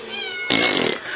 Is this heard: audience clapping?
no